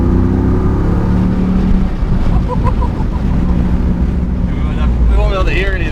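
A 392 Jeep Wrangler's engine roars loudly and steadily up close while accelerating down the road, its low rumble mixed with heavy wind buffeting and some talk over it.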